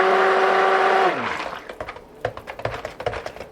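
Soap batter for a palm-free cold process goat milk and manuka honey soap is stirred after a blender's steady whir cuts off, leaving irregular wet scraping and sloshing strokes, close and fairly loud.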